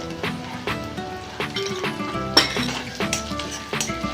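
Mustard and cumin seeds go into a pan of fried onion, giving soft sizzling with clinking and scraping of a spoon against the cookware, close by and moderately loud, with no talking.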